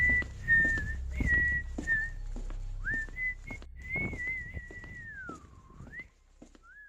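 A person whistles a wandering melody while walking toward a car, with sliding, wavering notes over soft footsteps and light background movement, fairly close and clear.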